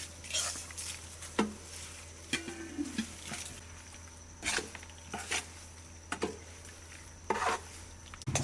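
A spoon stirs freshly fried tempering into coconut chutney, giving scattered scrapes and sharp clinks against the bowl over a low background hum and faint sizzle.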